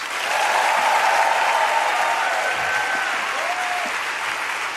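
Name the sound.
audience applause, clapping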